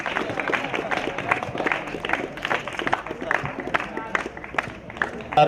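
An audience at a public event in Ongole claps, with dense, continuous, crowd applause throughout, the burst of claps fairly near and lively, and some voices mixed in.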